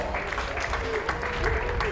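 Crowd at a polo match at The Villages Polo Club gives a steady round of clapping, with an announcer's voice running over it.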